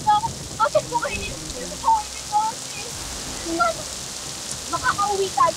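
Rain falls steadily over a storm, a continuous hiss with scattered crackles and no clear thunder roll, while people talk intermittently over it.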